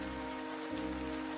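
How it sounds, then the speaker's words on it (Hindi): The first rain of the cold season falls steadily on surfaces outdoors, a continuous, even patter with a low constant hum beneath it and no voices. "यह ठंड की पहली बारिश है"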